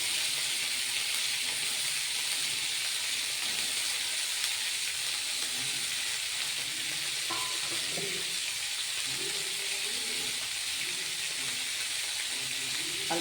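Cauliflower sizzling and frying in a pan for a potato, paneer and pea curry, a steady dense hiss with occasional stirring scrapes throughout, close and fairly loud.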